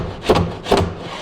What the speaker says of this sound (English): I just slide the drawer in.